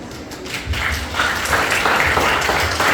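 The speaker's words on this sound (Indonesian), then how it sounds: "Sekali lagi berikan tepukan kepada 3 orang hamba Tuhan yang telah membawa kesaksian" Church congregation applauding during a Christmas service, a short burst of dense clapping that swells and holds steady, with a few voices faintly mixed in.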